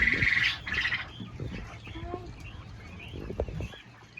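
A male quail calls in short squawks and chirps, fairly close, alongside other bird noise and low voices at a school poultry observation.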